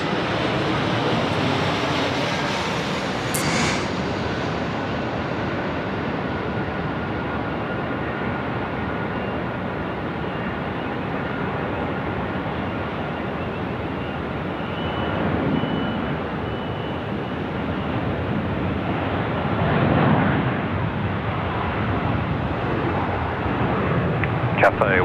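A Philippine Airlines airliner rolls for take-off on runway 16 right at Sydney Airport, its broad jet roar sustained and swelling over a long stretch, heard from a distance with wind and voices in the background.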